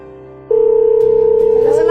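A steady telephone tone sounds while calling someone, starting abruptly about half a second in and holding loud and unbroken to the end over a faint background hum.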